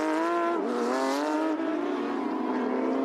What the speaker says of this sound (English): the sound of 21 flat 6, normally aspirated Porsche engines